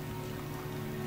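Rain falls steadily in the noir video game Calvino Noir, a brief, dense and even patter of drops hitting surfaces with no voices over it.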